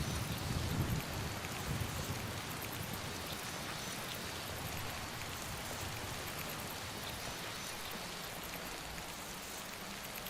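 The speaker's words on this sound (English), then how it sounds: "Oh, now it's raining?" Steady rain falls in Skyrim, a soft continuous patter with a faint low rumble early on, quiet and unbroken for the whole stretch with no voices.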